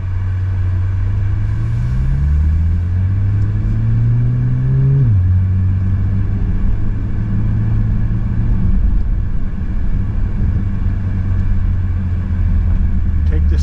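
A 2024 Bentley Continental GT Speed with its W12 engine drives down the road, giving a steady low engine hum that rises in pitch as it accelerates, drops at a shift, then settles into a smooth muffled cruise inside the well-insulated cabin.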